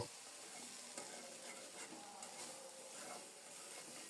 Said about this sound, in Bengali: আলতো হাতে নেড়ে চেড়ে খুব সুন্দর মতো বেগুন শুটকি মশলার সাথে ভালোভাবে কষিয়ে নিয়েছি